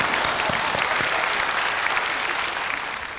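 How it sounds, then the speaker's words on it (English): A crowd claps steadily in sustained applause, dense and even, gradually tapering off toward the end. "Give those people a round of applause."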